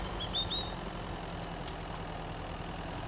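A vehicle engine idles steadily in the video game Mist Survival, a continuous low rumble with an even hum held at constant loudness throughout.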